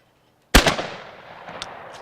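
A single sharp shotgun blast at a clay target rings out loud and close at an outdoor shooting range, its crack decaying into a long echoing tail with a faint distant pop following.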